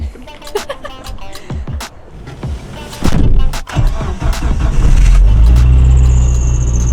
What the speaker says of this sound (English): We also got a belt squealing, but it goes away after like a minute or two